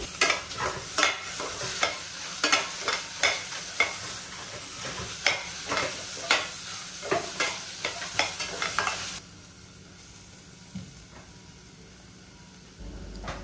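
A spoon stirs salt, chili powder and pepper powder into a paneer sandwich filling in a pan on a gas stove, with a quick series of scraping strokes over a steady sizzle for about nine seconds, then a quieter, calmer stretch.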